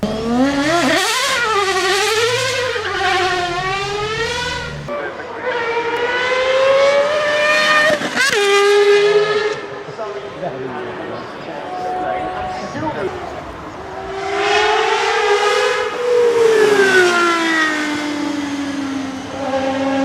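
High-revving engine of a Gordon Murray T50 supercar, which revs to 12,000 RPM, screaming up through rising and falling pitch sweeps in loud bursts separated by quieter moments, with a voice talking over parts of it.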